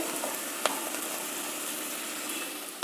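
Mixed vegetables frying in oil in a pan while a vermicelli pulao is being made. A dense, steady sizzle sounds close and continuous, with a brief clink near the start and no talking.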